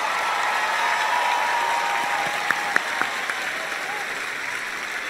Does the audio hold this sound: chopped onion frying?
no